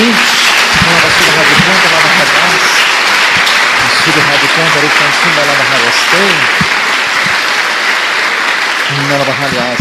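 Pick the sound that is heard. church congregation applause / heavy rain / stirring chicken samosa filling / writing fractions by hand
church congregation applause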